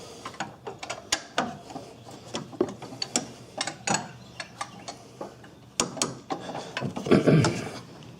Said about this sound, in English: I'm going to be taking these bolts out